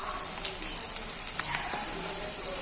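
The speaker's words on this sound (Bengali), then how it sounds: "তো আমি জাস্ট একটু হালকা ফ্রাই করে নিচ্ছি।" Paneer frying lightly in a pan gives a soft, steady sizzle with scattered crackles and pops, fairly faint and close, with no talking.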